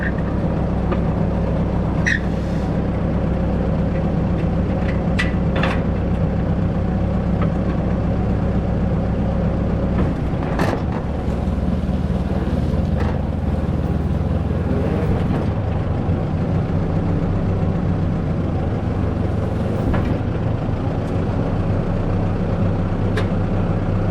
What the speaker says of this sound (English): I'll swing up on the tractor and we'll move her back.